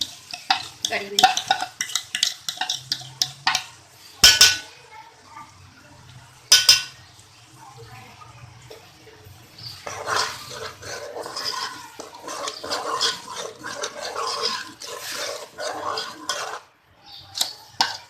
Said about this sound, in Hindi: और अब इसमें ये बेसन और दही डाल देंगे, मिक्स कर देंगे इसको कड़ी में।